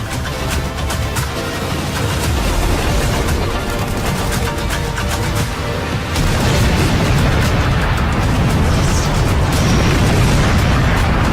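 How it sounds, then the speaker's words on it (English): Loud, continuous booming blasts and crackling bursts of a railgun energy beam weapon in the video game Just Cause 4, dense and sustained with no pauses. "the railgun can shoot a powerful beam of energy"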